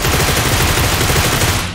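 Loud, dense burst of in-game gunfire from a shooter, sniper shots reported, packed into a continuous rattling roar that fades at the very end, no voices.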